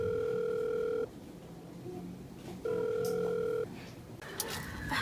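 Telephone ringback tone while placing a call, two long steady beeps separated by a pause of quiet, with faint background noises and brief clicks near the end.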